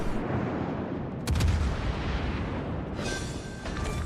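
Warship guns fire shells in a naval battle game, heavy booming blasts over a rumbling background, with a sharp salvo near the start and further bursts toward the end.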